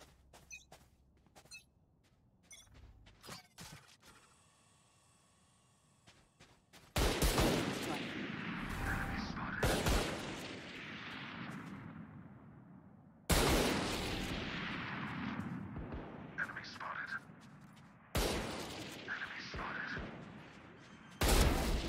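Gunfire in a tactical shooter round, several sharp loud bursts of shots arriving in clusters after a quieter stretch, each with a ringing decay, while a voice speaks faintly in between.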